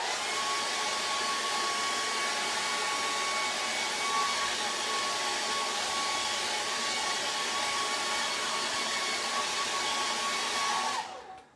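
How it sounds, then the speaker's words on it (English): A hair dryer blows steadily to dry a charcoal and acrylic portrait, a constant loud whooshing airflow with a faint motor whine, running unbroken for about eleven seconds before cutting off at the end. "Got the hairdryer, dry it off,"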